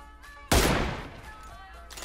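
A single sharp gunshot in PUBG Mobile cracks out loud and close, then trails off in a short decaying echo amid quiet game ambience.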